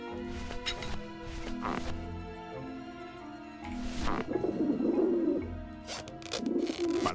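Pigeons cooing in the video game Grim Fandango Remastered: soft, throaty bird coos repeat over a busy in-game background of music and ambience, with no voices on top.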